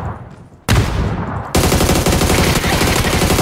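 Loud automatic gunfire from a shooting video game: dense, rapid bursts that stop briefly and then resume as a steady, continuous rattle.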